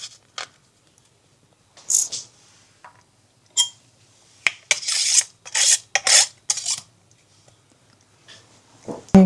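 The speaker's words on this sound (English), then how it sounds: "I'm going to grate 1 clove of garlic into the sauce" A clove of garlic is grated into a sauce in bursts of close, dry rasping strokes, some short and some in longer runs, with near silence between them.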